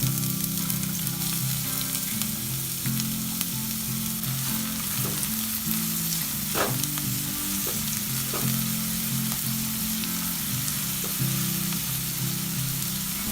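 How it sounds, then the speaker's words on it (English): Onion sautés in hot oil in a cooking pan, giving a loud, continuous close sizzle with a few sharper crackles and stirring taps along the way. "Heat a cooking pan, add some oil, saute some onion first"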